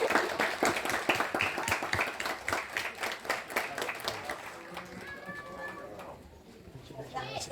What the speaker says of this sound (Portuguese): Palmas para todos nós.